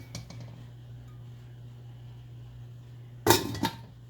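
A kadai wok set down on a stove, heard as a sharp metallic clatter near the end after a quiet stretch with a low steady hum, with a brief second knock right after.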